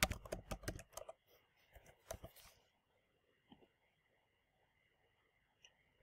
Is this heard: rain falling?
no